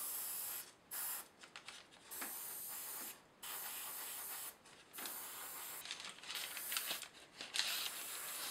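Bursts of airbrush spray hissing in repeated passes over a Dapol 15-ton crane model, steady for a second or two each, with short pauses between; close and fairly quiet.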